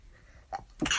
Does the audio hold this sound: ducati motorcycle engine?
no